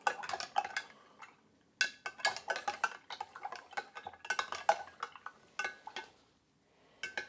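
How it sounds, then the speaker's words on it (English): A utensil stirs honey into Tom Kha fire cider in a jar, making bursts of close, bright clinks and scrapes against the jar that come in quick clusters separated by short pauses. "I'm gonna go ahead and get back in there and stir it some more"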